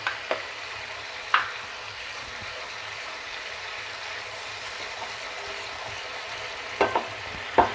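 A pan of filling with two to three spoons of tomato puree sizzling steadily while a spoon scrapes and stirs, several sharp clinks of the utensil against the pan breaking through the soft frying hiss.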